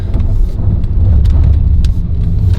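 A car engine rumbles loudly and steadily from inside the cabin, a low continuous drone under light road noise that holds for a few seconds without a clear rise.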